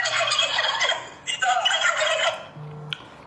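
Turkey gobbling plays from a phone speaker, repeated rapid warbling calls in bursts, fairly loud and close, with a brief tone near the end.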